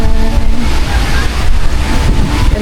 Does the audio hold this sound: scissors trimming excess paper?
no